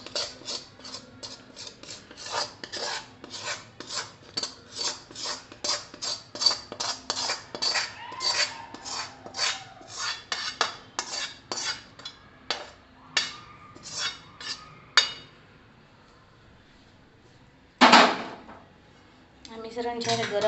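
Adadiya mixture scraped from a hot pan into a greased plate, a fast run of sharp metallic scrapes and taps of spoon on metal, close and loud, ending in one harder clatter, with no talk.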